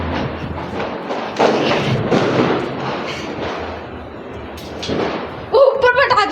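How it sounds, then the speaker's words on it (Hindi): Firecrackers burst on a rooftop at New Year, heard as scattered thuds and pops under a busy murmur of voices, with a sharp crackling flurry near the end. "छत पे पटाखे फूट रहे हैं"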